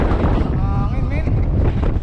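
Strong wind batters the microphone during a long solo road bike ride from Saiki to Beppu, Japan. It makes a loud, steady roar throughout, with a faint voice briefly audible beneath it.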